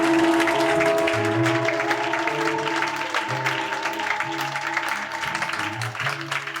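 A church congregation claps and cheers in acclamation during a Sunday service, a sustained crowd roar mixed with clapping over held organ or keyboard chords.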